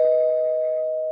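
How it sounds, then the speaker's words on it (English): A single bell-like electronic ding rings out loud and clear, then sustains as a pure tone that slowly fades, with no talking. "I'm gonna send up Quasimodo and ring the spoiler bell"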